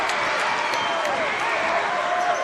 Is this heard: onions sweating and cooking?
no